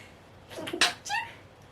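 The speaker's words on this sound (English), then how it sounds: "I'm gonna sneeze." A single sharp human sneeze, close and loud, with a short breathy intake just before the burst and a quick tail after it, with no talking.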